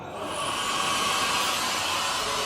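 Steady loud hiss of air rushing through the breathing valve of a 500L emulsifying mixer as its vacuum is released, rising quickly and then holding constant with no talk.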